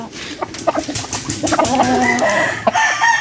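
Hens and a rooster in a breeding pen cluck and call close by in short, overlapping bursts, with a longer drawn-out crow-like call rising near the end over a busy farmyard background.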